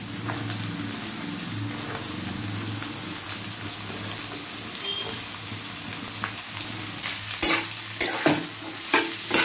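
Carrots stir-fry with other vegetables in a pan under a steady sizzle and a low hum, and sharper scrapes and clacks of stirring come in near the end. Nobody speaks.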